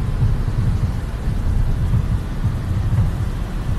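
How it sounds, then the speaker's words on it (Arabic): Rain pouring down in Thailand, a constant broadband hiss with a low rumbling undertone holding steady for several seconds, close and fairly loud, with no one speaking. "مطر والله"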